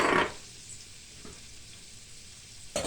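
Onions sautéing in a pan give a short bright sizzle at first, then a faint, low crackle, and another burst of frying at the very end.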